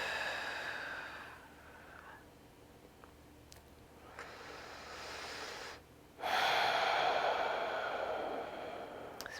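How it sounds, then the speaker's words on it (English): Deep, slow breathing during an upper-body fascial release exercise, long airy inhales and exhales repeated several times, close and alone, the last breath loudest. "Just breathing"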